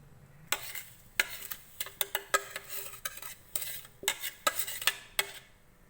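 A spoon scrapes and clinks against a bowl as crushed biscuit powder is stirred into butter for choco balls, giving a run of sharp, close taps and scrapes in an irregular rhythm.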